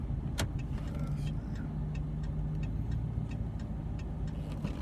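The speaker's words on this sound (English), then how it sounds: "And there's cars coming in." Cars drive past on a small uphill road, making a steady low rumble of traffic with faint ticking and clinking layered over it.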